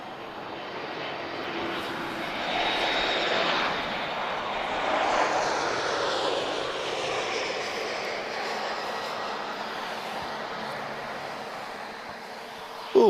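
A passenger airplane arriving from Paris Beauvais at Lisbon Airport, its jet engine roar swelling and then fading as it passes, heard from the distance as a steady broad rumble with a sharp sound at the very end.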